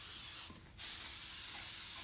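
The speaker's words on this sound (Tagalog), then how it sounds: "nisprayhan ko siya ng pan spray" Cooking pan spray hisses from an aerosol can onto a baking pan for banana bread, a steady close spray running almost the whole clip with a short dip in the middle.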